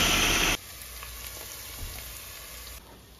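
Tadka of spices sizzles in hot oil for an Indian palak, matar and paneer sabji, a loud burst of crackling at first that quickly settles into a steady softer fry.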